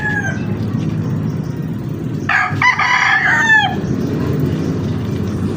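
A rooster crows once in the middle, loud and close, with a rising then falling call over a steady low background rumble.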